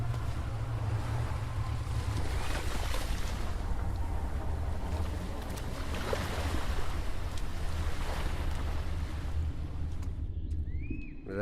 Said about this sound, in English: It actually makes water noises this time.